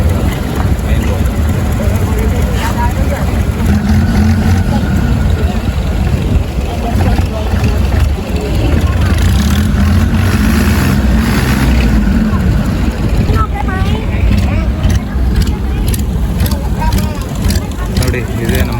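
Steady, loud engine drone of a long-tail boat carrying passengers from a Phi Phi Islands beach back to the main yacht in Thailand, with water rush throughout and voices talking over it.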